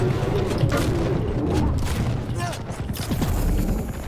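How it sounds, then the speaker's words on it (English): Weapons fire without pause in the arena shooter Quake Champions, a dense, loud barrage of repeated shots and booms mixed with other game noise, continuous from start to finish. "Why am I shooting? I'm not pressing the fire button!"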